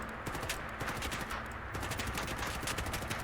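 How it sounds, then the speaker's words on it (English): Gunfire from a rifle fitted with a grenade launcher in a Fallout 4 mod, a steady rapid burst of shots that stays dense and loud for the whole stretch. "Actually, we will show you the one with the grenade launcher."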